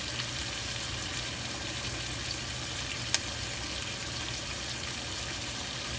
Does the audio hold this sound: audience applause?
no